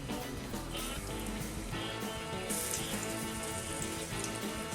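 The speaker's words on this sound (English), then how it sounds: "We're gonna throw this in a hot cast iron skillet" Blackened fish sears in a hot cast iron skillet, giving a steady, even crackling sizzle throughout, moderately loud and without speech.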